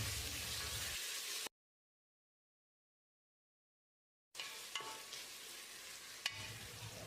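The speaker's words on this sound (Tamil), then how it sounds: "தக்காளியை மசீர் அளவுக்கு வதக்கிடலாம்" Tomatoes sizzling and frying in a pan with stirring scrapes, cut off by a few seconds of silence before the steady sizzle returns.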